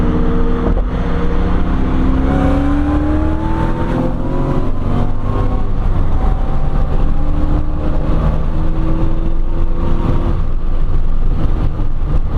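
A 950hp Mustang's engine revving and accelerating on its first drive, a loud, continuous roar that rises and falls through the gears, close and dense, with no talk.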